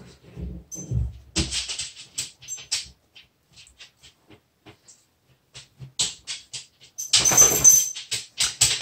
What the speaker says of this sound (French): si vous entendez des petits pas, là, c'est mon chien qui voulait rentrer dans mon bureau